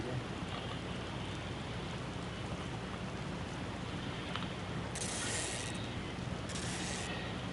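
Steady rain falls in the DayZ survival game, a continuous even hiss of drops with a couple of brighter bursts near the end, and no voices.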